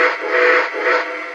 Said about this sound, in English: And I really like the sound of the whistle